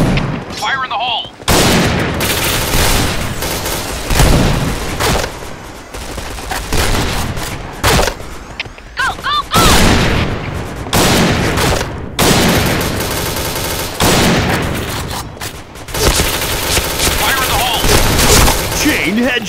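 Grenade blasts and bursts of gunfire from a shooter video game, dense and loud, with repeated sharp bangs and rattling volleys filling the whole stretch, while voices call out over the action.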